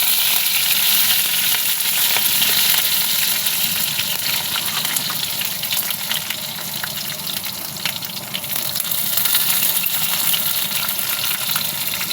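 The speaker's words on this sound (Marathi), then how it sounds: "तेल गरम झालं आहे. त्यामध्ये राई घालून घेते, मिरच्या आणि हा कढीपत्ता." Mustard seeds, green chilies and curry leaves sizzle and crackle in hot oil for a Marathi breakfast dish, a dense continuous frying hiss heard up close without talk.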